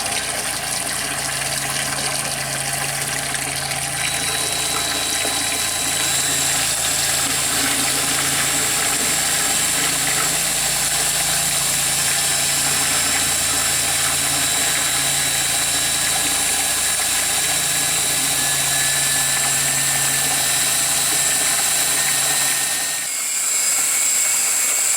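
A steady mechanical hum and rattle of a pump recirculating a beer mash runs continuously, joined by the whirring of a drill with a paint stirrer mixing the mash, ongoing for the whole stretch before cutting off.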